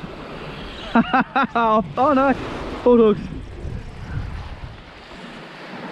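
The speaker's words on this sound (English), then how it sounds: "The wind's coming through in little gusts as these clouds move over" Wind rushes and buffets the microphone in uneven gusts at a solo campsite as clouds pass over, with someone speaking briefly near the start before the gusts continue alone.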